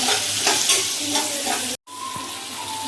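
Capsicum and onion fry in oil in a pan with a steady, loud sizzle and stirring scrapes, cut by a brief silent gap before the hiss resumes.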